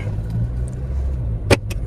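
A car driving along a highway in India, a steady low road and engine rumble heard from inside, with a brief sharp noise near the end.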